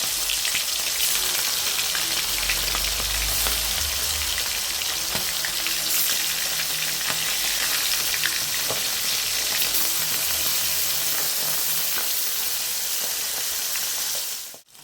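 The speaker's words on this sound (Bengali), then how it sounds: "তেলটা গরম হয়ে গেছে, এবার আমি মাছগুলো এক এক করে দিয়ে দেবো।" Koi fish sizzling in hot oil, a steady, loud, crackling fry that holds for nearly fifteen seconds before cutting off abruptly at the end.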